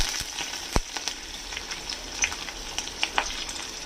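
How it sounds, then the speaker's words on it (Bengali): Mustard seeds, slit green chillies and curry leaves sizzle in white oil for a cabbage dish, a steady bright crackle with a few sharp pops, close and alone. "সাদা তেলে এখানে এক চামচ সর্ষে আর কিছু চেরা কাঁচা লঙ্কা দিয়ে দিলাম সাথে দিয়ে দিলাম কিছু কারি পাতা"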